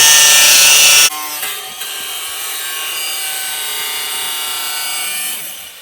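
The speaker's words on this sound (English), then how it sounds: "We're cutting the brand new radiator." A saw cuts into a brand new radiator for a 1966 Ford F100, a loud harsh rasping burst that drops after a second into a steadier, quieter grinding hiss.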